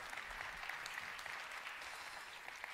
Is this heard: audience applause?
yes